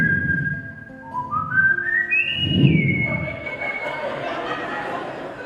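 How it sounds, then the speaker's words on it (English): A man whistles a rising, tuneful morning wake-up melody, close and clear, with steady stepped notes climbing to a held high tone, then sliding into softer background chatter and murmuring voices. "I know my siblings will recognize that whistle, because every morning that my father was home, that was the serenade we got to get up."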